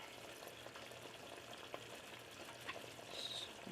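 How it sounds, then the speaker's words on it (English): Cornstarch syrup is stirred into a simmering Mongolian ground beef sauce, a faint, low bubbling sizzle with light scrapes and taps from the spoon. "So we're going to stir and get this sauce thickened up"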